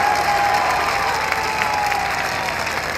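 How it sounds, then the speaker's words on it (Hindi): A large crowd at a political rally in Liaquat Bagh, Rawalpindi, applauds in a dense, steady wash of clapping with faint cheering, loud and close throughout. "आप जरा हाथ उठाकर तालियों की गूंज में बताइए कि आपको पाकिस्तान से, इमरान खान से कितना प्यार है।"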